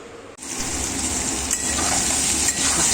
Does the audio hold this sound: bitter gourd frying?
yes